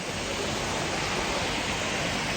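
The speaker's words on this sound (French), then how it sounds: "Ici, on suit la rivière Mill Creek" Mill Creek near Moab, Utah, rushes steadily with small cascades, a dense continuous wash of water noise close by with no pauses.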